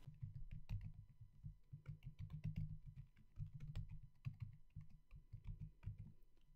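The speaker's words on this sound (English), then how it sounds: "I'm going to enter my username and password." A username and password are typed on a computer keyboard: a quiet, close run of uneven key clicks and taps with small pauses, and no voices.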